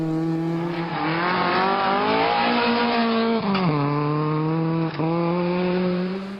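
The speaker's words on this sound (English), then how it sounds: "for Colin and co-driver Alan Barnes, and they flew to their first class win in the Escort by 31 seconds at the finish after a great drive." A Ford Escort rally car at speed on a Speyside stage, its engine howling loud and close without pause, with pitch dips at gear changes and brief lifts of the throttle.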